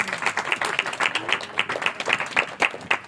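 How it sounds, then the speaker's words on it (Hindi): Clapping from a small audience at a religious gathering, with distinct individual claps at an irregular pace, close and moderately loud, and a little background murmur. "जोरदार आंटी के लिए ताली बजाएं।"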